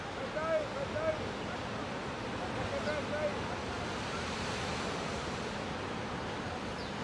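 Sea waves roll up behind a small fishing boat out for mullet, a continuous close surf wash mixed with wind noise, while faint shouting voices cut in briefly now and then.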